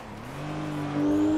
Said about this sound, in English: The car is very loud right now